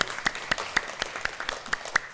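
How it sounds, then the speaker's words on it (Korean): A church congregation at a Sunday morning service claps in unison to a steady beat, with evenly spaced sharp claps about four per second, moderately loud and without talking. "우리 하나님께 영광의 박수 올려드리겠습니다"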